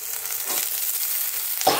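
Small-cut bottle gourd pieces hit a hot tempering of spices in oil, setting off a steady close sizzle with a brief louder hiss burst near the end as more pieces land in the pan.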